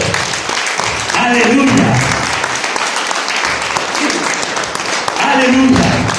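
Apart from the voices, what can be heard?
congregation applause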